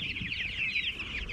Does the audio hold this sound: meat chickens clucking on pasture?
yes